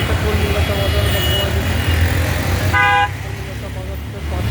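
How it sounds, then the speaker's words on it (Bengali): Car horns honk in a street jammed with traffic beside the Nabadwip theatre and Kolkata Bazar, a loud close toot sounding over rumbling engines and nearby voices. "দেখেন এত যানজট, গাড়ি ঘোড়া চলা যাবে"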